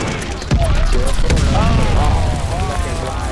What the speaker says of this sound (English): Got enemy glide bomb on the way